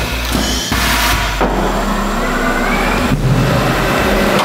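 A Ravaglioli G1250.30 tyre changer turns to demount a tyre bead, giving a steady mechanical whir and rumble broken by a few sharp clunks, loud and close.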